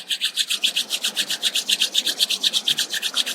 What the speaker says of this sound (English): Now start rubbing your palms.